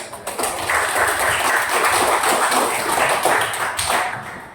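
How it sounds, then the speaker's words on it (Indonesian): A classroom of students clapping hands together in a sustained burst of fairly loud, dense claps that begin abruptly and fade slightly toward the end, with no talking over them. "Tepuk tangan."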